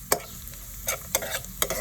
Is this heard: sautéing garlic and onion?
yes